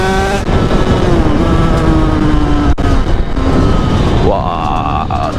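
A moped engine fitted with an MRT Pro 86 exhaust and aluminium top end revs loudly up close, holding a raspy buzz that dips and then surges higher at the end.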